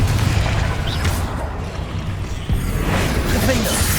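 A Confringo blasting curse explodes in the Hogwarts Legacy game, a loud rumbling boom over sustained low roar, with a fresh impact about halfway through.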